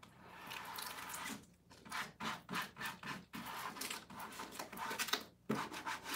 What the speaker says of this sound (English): So I just kind of initially rub it on the back.